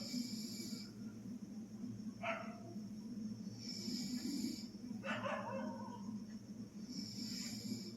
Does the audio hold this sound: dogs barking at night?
yes